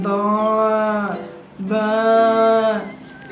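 A human voice imitates a long, pained ox moo, drawn out twice with a short gap between, close and clear.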